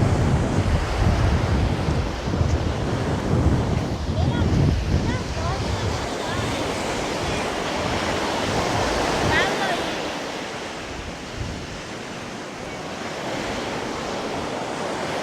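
Rough sea surf pounds a Cuban beach, a continuous loud roar of crashing waves and wash mixed with gusting wind noise on the microphone, easing slightly toward the end.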